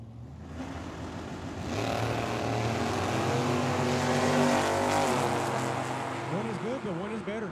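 A Mustang and a Camaro drag race at Tucson Dragway, their engines swelling into a loud roar with a rising whine near the end, partly under an announcer's voice.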